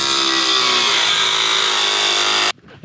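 A power tool trims 0.063-inch aluminum sheet for a camper galley edge, giving a loud, steady, high-pitched whine and cutting hiss that runs continuously, then stops abruptly near the end.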